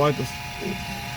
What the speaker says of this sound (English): And hear the whining noise until the sound changes.